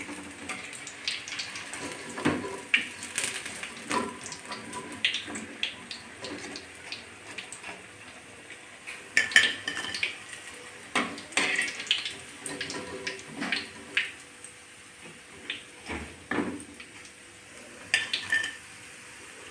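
Onion fritters fried in fish oil are lifted out with a metal utensil onto a plate, giving scattered clinks and scrapes over a soft, steady sizzle of hot oil, close by, with no talking.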